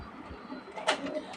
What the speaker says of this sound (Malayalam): എനിക്ക് ഏറ്റവും കൂടുതൽ ഇഷ്ടപ്പെട്ട ഒരു കറുമ്പി പ്രാവാണ് ഇതെൻ്റെ പ്രാവ്